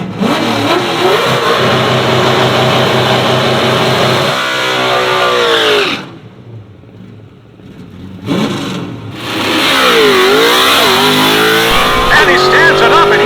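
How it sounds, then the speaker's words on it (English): A 1986 Ford Mustang with a stock 4.6L two-valve V8 launches hard down a drag strip quarter mile, its loud revving climbing through gear shifts before a brief lull and a renewed roar, under an announcer's voice. "Anderson, 1986 Ford Mustang. Look at that run."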